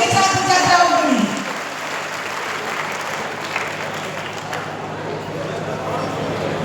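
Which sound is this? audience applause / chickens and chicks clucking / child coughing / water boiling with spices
audience applause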